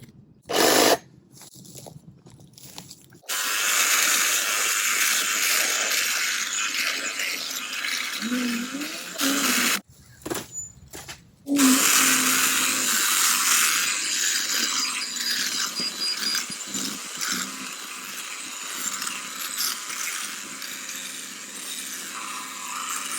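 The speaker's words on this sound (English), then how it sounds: "Now this trimmer is meant to cut up to 3/4 inch branches." Powered branch trimmer cutting dead, dry bush wood, bursts of loud buzzing, grinding cutting separated by short silences, then a long stretch of continuous rattling cutting with snapping wood.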